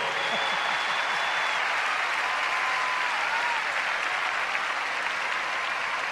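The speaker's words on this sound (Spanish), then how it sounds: "Que se oiga el aplauso para los muchachos" Concert crowd applause at a large stadium show, a dense steady roar of clapping sustained throughout with faint cheering and whistles rising above it.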